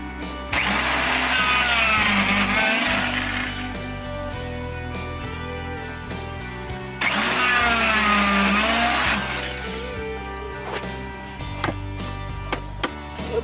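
A power drill bores pocket screw holes in the wooden framework of a gamer room cabinet, with two loud, close whining bursts of a few seconds each, separated and followed by knocks and clunks of handling the wood.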